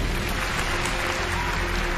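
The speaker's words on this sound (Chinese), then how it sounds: "大家应该为这个勇气先给他们掌声吧。" A studio audience at a TV singing show breaks into steady, dense applause that holds evenly throughout, with no voices over it.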